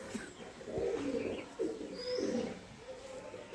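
Pet pigeons cooing nearby, several soft throaty coos in an uneven run with faint chirps and a light background hum.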